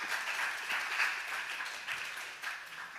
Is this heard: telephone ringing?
no